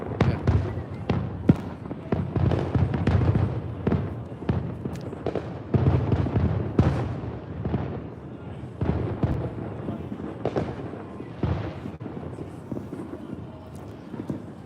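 Distant city Fourth of July fireworks crackle and thump in an irregular stream of pops, mixed with nearby voices chatting throughout.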